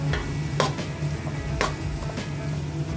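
Cashews are lightly frying in a pan of oil with a soft, steady sizzle, punctuated by a few sharp scraping or stirring clicks at intervals.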